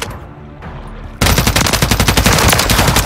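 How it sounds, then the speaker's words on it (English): Automatic gunfire in a Call of Duty MW3 multiplayer match on the Sub Base map. After a subdued opening, a loud, rapid, continuous volley of shots bursts in and hammers on at a steady pace. "Taking effective fire!"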